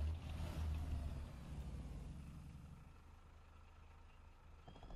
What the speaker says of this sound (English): I love how the engine roars.